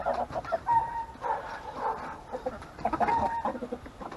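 A rooster and hens clucking close by, with bursts of cackling and a few drawn-out calls over a busy farmyard background.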